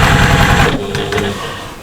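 A sewing machine stitches a turning gap closed on a fabric spice storage pod, running loud and steady with a dense mechanical whir that eases slightly partway through.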